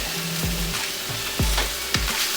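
Zucchini frying in a pan for a zucchini pasta, a close, crackling sizzle with a few soft knocks and scrapes from stirring, no talking.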